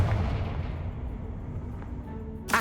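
A Confringo blasting spell in Hogwarts Legacy, a booming explosive burst at the start that rumbles away, followed by a sharp crack right at the end.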